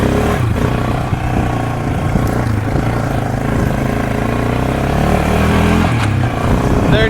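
A used, low-hours four-wheeler ATV engine pulls steadily in second gear, a loud, continuous revving drone close by that rises and holds its pitch.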